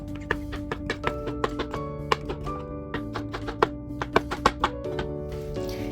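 Knife chops through pumpkin pieces in a steady series of sharp taps on a board, close by, with a low hum in the background.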